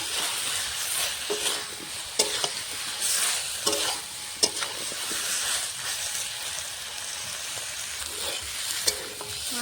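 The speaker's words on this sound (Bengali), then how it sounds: "আলুর সঙ্গে শাকটা মশলাটা ভালো করে কষিয়ে নিয়েছি" Spinach and potatoes sautéing with spices in a pan give off a continuous close sizzle, broken by sharp scraping stirs and utensil clicks at irregular intervals.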